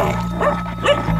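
A dog near an Ethiopian highland wolf habitat barks loudly at close range in a short burst of two or three yaps, with no speech.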